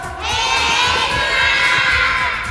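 Children in a television studio audience cheering and shouting together, a loud sustained burst of high young voices that swells in and holds for a couple of seconds, close and filling the room.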